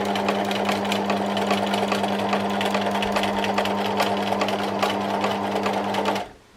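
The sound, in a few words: sewing machine doing free motion embroidery on quilt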